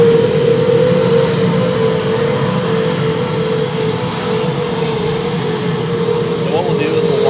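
An F-15E Strike Eagle fighter jet engine runs on the flight line at RAF Lakenheath, a loud, steady, close-up roar with a sustained whining tone over a broad rushing drone.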